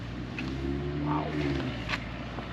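An engine running without mufflers idles with a deep, steady rumble, fairly close and constant, with a voice speaking briefly nearby.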